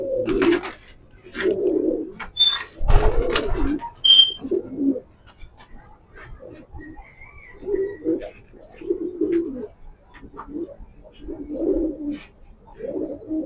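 Grizzle pigeons, a breeding pair, coo in a repeated run of low, rounded phrases close by, with a few brief chirps and wing or cage knocks near the start; the cooing continues steadily throughout.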